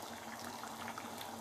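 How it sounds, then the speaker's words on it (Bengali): Pea dal with pumpkin shoots and leaves bubbling in a wok, a soft continuous simmer of small bursting bubbles, close and fairly quiet. "তবে আরেকটু জোরে দিয়ে দিই, একটু আরেকটু ফুটে উঠলেই অফ করে দেবো।"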